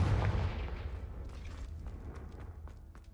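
A Confringo blasting spell explodes in Hogwarts Legacy as one loud, deep boom at the start, then a rumbling tail that slowly fades over a few seconds.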